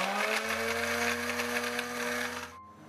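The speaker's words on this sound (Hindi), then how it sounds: "अब जग में काजू और हरी मिर्चें ग्राइंड कर लेंगे।" A blender jug grinds cashews and green chilies with a little water in a continuous loud motor whir, then the motor winds down and stops near the end.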